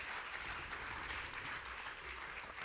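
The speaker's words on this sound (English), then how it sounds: "So, Mr. President, this has been a magisterial lecture, actually, for which we should applaud you." Audience applause after a magisterial Cheikh Anta Diop lecture at a CODESRIA General Assembly, a steady, fairly faint wash of many hands clapping throughout.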